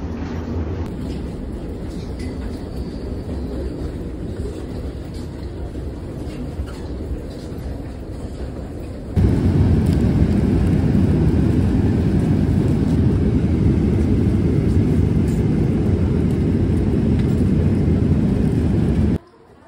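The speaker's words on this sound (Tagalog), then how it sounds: "Sakay na tayo ng aeroplano papuntang Pinas." Steady broadband roar of a passenger airplane cabin in flight to the Philippines, a constant engine and air rush that jumps noticeably louder partway through and holds, then cuts off at the end, with no talking.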